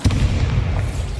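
The Bombarda blasting spell in Hogwarts Legacy goes off as one sudden, loud, booming burst with a short rumbling tail.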